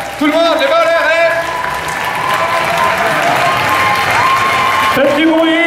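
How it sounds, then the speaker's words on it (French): A large crowd at a Paris manga convention applauds with hands raised, loud continuous clapping and cheering, while an amplified voice speaks over the noise. "Vous pouvez applaudir les mains en l'air, hein."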